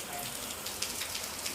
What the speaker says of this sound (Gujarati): કેવો વરસાદ ચાલુ આ રાતનો ચાલુ છે